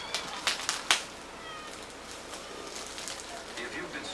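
Hungry young kittens meow in a few short, sharp bursts near the start, followed by fainter mewing and chirps over a noisy background.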